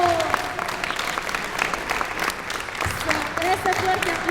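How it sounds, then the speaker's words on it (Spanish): Applause from the audience at a Spiritist association's anniversary event in Guatemala, sustained clapping at moderate level while a voice speaks over it. "Démonos todos un fuerte aplauso en esta tarde"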